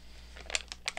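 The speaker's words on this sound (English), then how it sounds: "it's a plastic bag, and I was hoping it would tear, but it's not gonna tear." Thin plastic bag that resembles printed vellum, crinkled by hand during a failed attempt to tear it, giving a few short crackling bursts close by in a quiet room.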